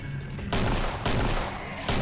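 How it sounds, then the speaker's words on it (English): Flashbang bursts and gunfire in a competitive Killing Floor-style team match, with three sudden loud broadband blasts sounding close and harsh over a steady noisy game backdrop. "I think I hear the first flashbang."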